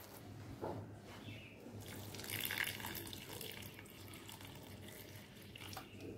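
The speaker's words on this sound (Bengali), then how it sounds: "আমি অল্প ঠান্ডা জল দিয়ে দিলাম।" Cold water runs and splashes steadily into a bowl of soaking wood apple pulp for a sweet summer drink, a continuous faucet-like trickle with no voices.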